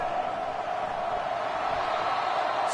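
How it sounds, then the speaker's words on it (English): A football stadium crowd roars in a dense, sustained wash of voices that stays loud and steady throughout, with no distinct talk standing out. "This crowd full of throats, splitting the eardrums and letting them know it's going to be a long day."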